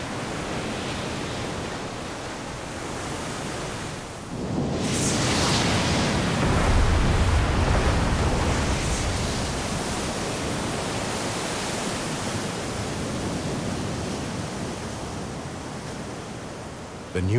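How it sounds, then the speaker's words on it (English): Heavy ocean surf crashing against the rocky ramparts of a young volcanic island, a loud continuous roar of breaking swell that surges sharply after a few seconds and stays dense and powerful with no voices. "The power of the waves collides against the ramparts of the volcano."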